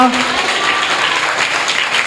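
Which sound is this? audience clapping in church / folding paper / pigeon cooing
audience clapping in church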